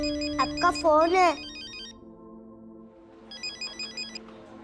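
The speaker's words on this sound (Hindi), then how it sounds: "मम्मी आपका फोन है।" A melodic mobile phone ringtone plays indoors in a household scene, a voice briefly speaking over its opening, then it repeats alone after a short pause, moderately loud and close.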